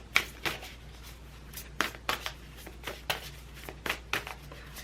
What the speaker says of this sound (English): let's shuffle for more cards